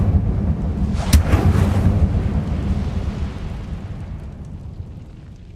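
An Incendium fire spell from Hogwarts Legacy erupts in a single loud, explosive burst that flares near the start, then settles into a sustained low rumbling roar that slowly fades away.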